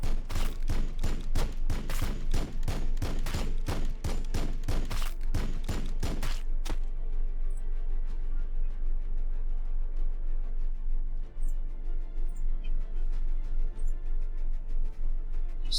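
Gunfire in the Warhammer 40K Battlesector video game, a rapid series of loud, evenly spaced shots for about six seconds, then a low rumbling battlefield din with faint scattered pops.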